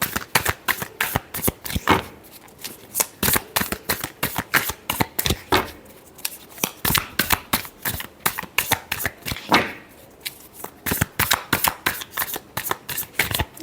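A deck of tarot cards is shuffled repeatedly, producing close, crisp riffling bursts in quick rhythmic succession that continue throughout with only brief pauses.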